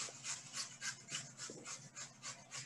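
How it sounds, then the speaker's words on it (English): A cucumber is shredded on a box grater in quick, even rasping strokes, about three per second, close and fairly quiet with no talking. "So now just shredding the cucumber."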